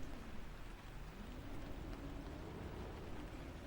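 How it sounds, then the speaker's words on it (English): Steady rain falling, a dense continuous hiss of drops with a low rumbling undertone, even in level throughout and heard alone. "It starts to rain."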